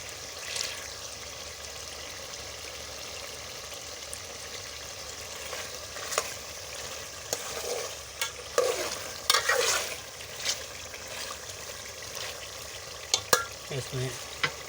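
Green chillies fry in a karahi of chicken with a steady, moderate sizzle. Occasional stirring scrapes and spoon clicks break through, with brief louder bursts.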